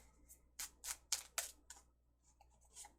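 Tarot cards are riffled and shuffled in a handful of crisp, papery bursts, four louder flicks in a row followed by softer ones, close and with no voice over them.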